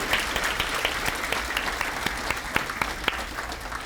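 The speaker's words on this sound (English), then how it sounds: "round of applause for" Applause from an audience at an awards celebration, a steady, dense patter of many hands clapping together, moderately loud and continuous with scattered sharper claps standing out.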